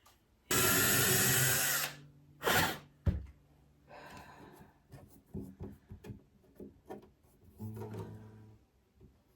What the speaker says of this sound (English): I got it drilled out.